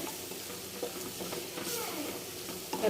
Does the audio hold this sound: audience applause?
no